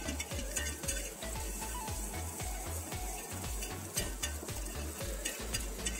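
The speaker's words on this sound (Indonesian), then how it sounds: "Ini sudah terlihat matang ya, kita aduk perlahan banget seperti ini." Nasi goreng fried rice stirred slowly in a pan, a soft continuous sizzle with a steady rhythmic scraping of the spatula against metal, faint and close, with no talking.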